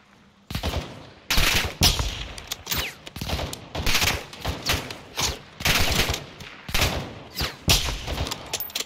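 Heavy gunfire in Call of Duty MW2, a sustained fusillade of loud, close bursts and rapid automatic shots firing almost nonstop in uneven clusters, with no talk.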